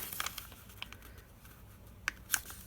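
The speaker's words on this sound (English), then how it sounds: "I'm going to fold it in half" Paper being folded in half for a handmade budget journal, with soft crinkles and a few sharp creasing snaps near the end, close and quiet, no voices.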